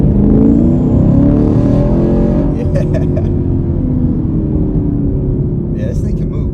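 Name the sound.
2023 Camaro LT1 accelerating in second gear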